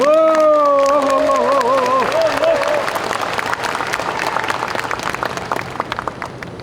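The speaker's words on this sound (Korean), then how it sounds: "뜨거운 박수를 내주시길 바랍니다" A sustained tone fades out as a crowd breaks into steady applause, many hands clapping together in a dense, even wash, at a Korean Agent Orange Day commemoration ceremony.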